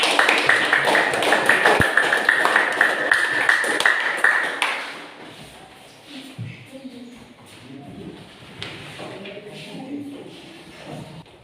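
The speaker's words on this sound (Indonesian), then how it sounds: "Ya, silakan tepuk tangan." Students in an Indonesian classroom clap after a group presentation, a dense burst of close clapping for about four seconds that then thins into scattered taps, shuffling and faint room noise.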